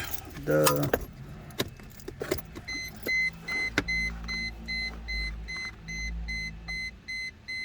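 Car keys jangle briefly near the start inside a Mercedes-Benz E320 during an aftermarket radio install, followed by a steady run of repeated electronic warning beeps from the car.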